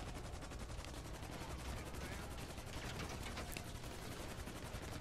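Dense, continuous gunfire in GTA V during a mission, rapid automatic bursts and heavy shots filling the whole stretch, loud and unbroken, with a voice faintly under the din.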